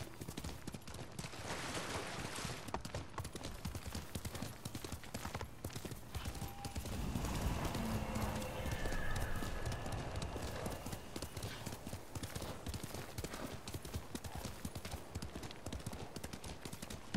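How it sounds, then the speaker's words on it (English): Continuous rapid hoofbeats of a galloping horse in the video game Ghost of Tsushima, dense and steady throughout, with a brief whinny partway through. "You're a good horse, Noble."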